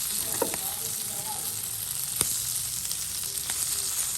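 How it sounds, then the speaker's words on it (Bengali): Sliced onion and finely chopped garlic frying lightly in a pan, a steady close sizzle punctuated by a few sharp clicks of stirring. "আমি এখানে পেঁয়াজ দিয়েছি, রসুন দিয়েছি হালকা কুচি করে, আর এভাবে হালকা ভাজা করে নিচ্ছি"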